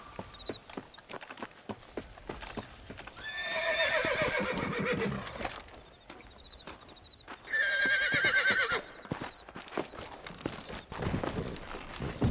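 Two loud horse whinnies ring out between steady clip-clopping hooves in Red Dead Redemption, with game music and effects in the background.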